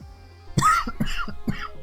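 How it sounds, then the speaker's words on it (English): A few dry coughs in a row, close and fairly loud, with short pauses between them and no talking. "Oh, I got a cough."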